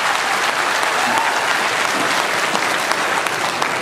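Dense, steady applause from a live audience at a Hindi poetry gathering, honouring a celebrated poet; a continuous wash of many hands clapping at once, loud and close throughout with no talk over it.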